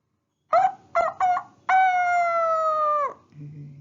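A person imitates a rooster's crow: three short clipped bursts, then one long, steady, harmonic call that drops off at the end, close and loud.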